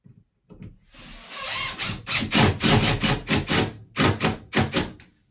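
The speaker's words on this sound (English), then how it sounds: "So just put your piece in place and screw it down." A screw gun drives a screw through a drywall patch into place during a repair after a big water leak, giving a close series of short, even whirring bursts with brief pauses between them.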